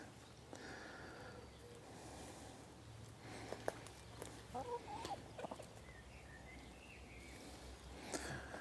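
Chicken clucking during gundog training in a field, a few short scattered calls at moderate distance over steady low background rumble and wind.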